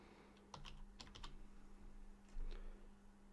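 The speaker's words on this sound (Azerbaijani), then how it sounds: "qovluq adı yazıram" Short clusters of keystrokes on a computer keyboard as a folder name is typed, quick tapping bursts near the start and middle, fairly quiet over a steady low electrical hum.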